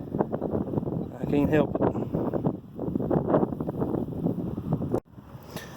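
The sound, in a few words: wind blowing into microphone outdoors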